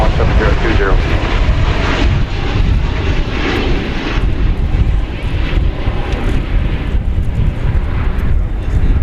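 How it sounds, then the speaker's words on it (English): A Boeing 737-800 airliner landing at DFW Airport roars loudly and steadily throughout, thick engine noise mixed with wind buffeting on the microphone and a voice speaking beneath it. "It's a 737 800 flight 2639."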